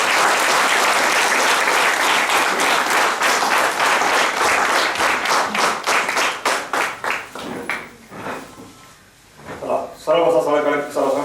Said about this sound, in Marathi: कृपया टाळ्या वाजवून सरांचं स्वागत.